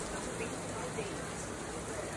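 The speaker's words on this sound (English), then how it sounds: "And suddenly, it just started to pour." Heavy rain pours down over an outdoor night market in Taiwan, a dense, even hiss of drops striking surfaces, moderately faint and unbroken for the whole stretch.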